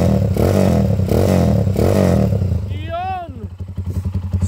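A Honda TMX155 motorcycle engine converted to 200cc idles loud and close with a steady chugging rumble, then briefly revs up and settles back to an uneven putter.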